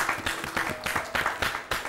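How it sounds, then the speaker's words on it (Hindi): Clapping from a small group, uneven and rhythmic, with bursts of claps rising and falling over a couple of seconds. "तो जोरदार तालियों से स्वागत किया जाए।"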